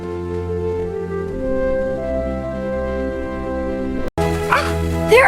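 Several dogs bark and yip together in a lively group, fairly close, with steady tones sustained underneath.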